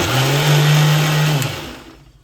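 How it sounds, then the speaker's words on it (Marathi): A mixer grinder blends a smooth ice cream mixture, giving a loud, steady whirring hum that runs for over a second and then winds down. No one speaks. "ते मिक्सरला लावणार मी पूर्ण मिश्रण जे आपण एकजीव केलेलं"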